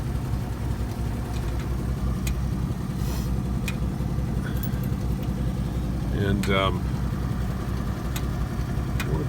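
A 1938 Plymouth Deluxe P6 engine runs steadily at idle, a continuous low rumble throughout with someone speaking briefly over it.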